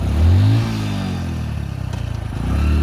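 A Hero Splendor motorcycle engine labours along a dusty mountain road toward Kedarnath, past a landslide area, with a steady close hum that swells near the start and near the end, alone with no talk.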